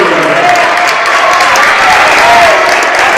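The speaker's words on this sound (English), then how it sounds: "Gets a big applause back onto the court." A girls' sub-state basketball crowd applauds a player returning to the court, a loud steady wash of clapping and cheering filling the gym, with a faint tone drifting underneath.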